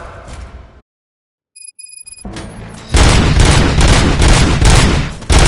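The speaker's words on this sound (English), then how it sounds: "Gunshots? What's going on?" Gunfire from the video game Robocop Rogue City on PS5: after a short silence with a few electronic tones, a loud, dense burst of shots and booms starts near the middle and keeps going to the end.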